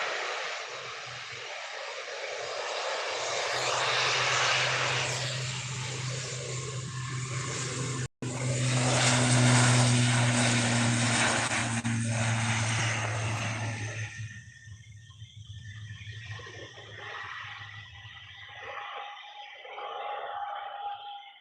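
Propeller aircraft engines with spinning props at Manchester Airport, a steady loud droning roar with a low hum that holds for several seconds, then eases and thins out toward the end.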